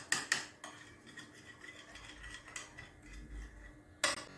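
Utensil strikes a bowl while a mixture of salt and crushed red chili is beaten for aloo chicken tikki, giving a few sharp clinks spaced between quieter scraping and stirring.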